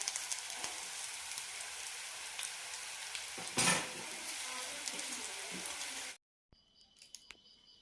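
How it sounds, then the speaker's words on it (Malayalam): Bitter gourd slices sizzling in a pan of oil, a continuous crackling fry with a louder burst of spatter near the middle, ending abruptly and followed by faint clatter. "ബാക്കിയുള്ള കഷ്ണങ്ങൾ കൂടി വറുത്തെടുക്കാം."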